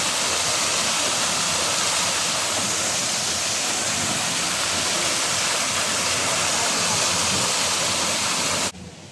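Steady, loud rush of a waterfall at Singapore Zoo, a dense continuous roar of falling water that runs unbroken until it cuts off abruptly at the very end.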